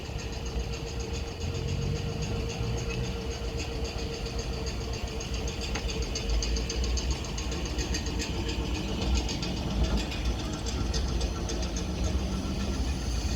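A Class 444 electric train idles at Raynes Park station on the South Western Main Line before departure, a steady mid-level hum and drone with faint ambient platform noise throughout.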